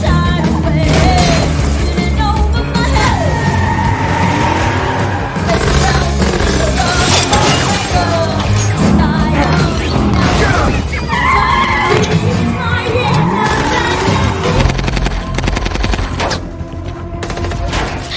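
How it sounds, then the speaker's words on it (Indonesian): Street car chase from the action film Nobody: dense bursts of gunfire and automatic weapon fire mixed with tire skids and revving engines, loud and continuous throughout, with a horse-like whinny of squealing tires. "Terjadilah kejar-kejaran dan tembak-tembakan di jalanan."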